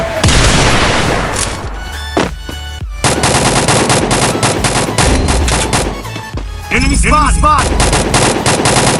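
Loud, dense gunfire in a shooting video game, rapid automatic bursts with booming shots and brief pauses between volleys, close and continuous across the clip, with faint game sounds beneath.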